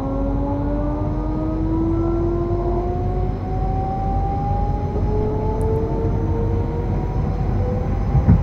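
A U6 subway train passes in Train Simulator 2022 on the Nordbahn line near Wien Handelskai, heard as a steady, loud rolling rumble with rising and falling tonal whines throughout, no voices.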